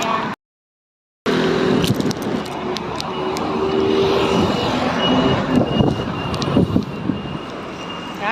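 Heavy traffic rolls past beside a highway in Nankan, Taoyuan, a continuous roar of cars and trucks with passing swells and a faint beep, heard close from the roadside after a brief dropout at the start.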